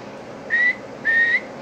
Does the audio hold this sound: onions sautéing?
no